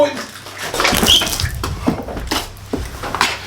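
Water runs or pours close by in a house, a splashing stream with a few clinks and some voices alongside.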